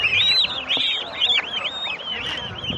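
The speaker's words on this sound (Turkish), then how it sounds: "Evet Çin kazı yavruları." Chinese goose goslings at a poultry market give a rapid stream of high, thin peeping calls, overlapping and continuous over faint crowd background.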